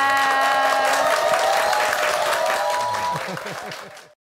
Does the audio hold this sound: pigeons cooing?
no